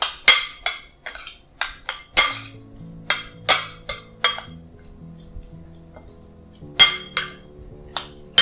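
A spoon clinks sharply against a dish while bruschetta tomatoes are mixed with vinegar, roughly a dozen close, bright ringing taps in an uneven rhythm, some leaving a short resonant tone afterward.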